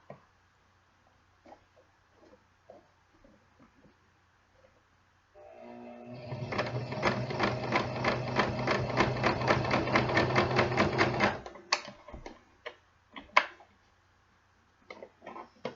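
A sewing machine stitches a waistband onto the reverse side of a pleated skirt in one steady run of about six seconds, loud and close. Quiet handling clicks and fabric rustle come before and after it.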